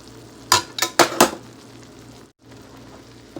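A spoon scrapes and clinks in a pan four times in quick succession while pepper is stirred into baked shrimp with glass noodles, followed by a quiet low hum.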